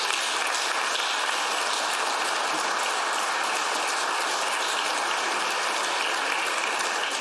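Members of a provincial legislative assembly applaud a school group welcomed into the chamber, a dense, steady wash of many hands clapping at constant loudness throughout, with no voices over it.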